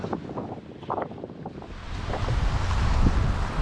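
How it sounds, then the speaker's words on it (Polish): Strong wind in Iceland buffets the microphone with low rumbling gusts, building louder toward the end, with faint outdoor sounds earlier on. "Wiecie jaki wiatr?"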